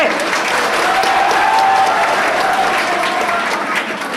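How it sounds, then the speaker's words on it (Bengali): Loud, sustained applause from an audience at a World Tobacco Day event, dense clapping filling the whole stretch at steady intensity, close and full. "আসুন আমরা আলী নায়ামত ভাই উদ্দেশ্যে একটা জোরে তালি দেই"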